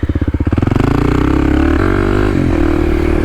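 A Kawasaki KLX 300 dual sport motorcycle revs hard for a wheelie, its engine rising from choppy pulses into a loud, steady, close roar that climbs in pitch, then drops briefly and picks up again.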